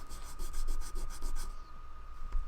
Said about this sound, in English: Kind of sand that down.